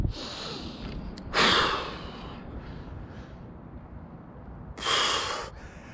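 A person in a cold ocean bath in November takes heavy, ragged breaths, with two loud sharp gasping inhales and quieter panting between them, close up.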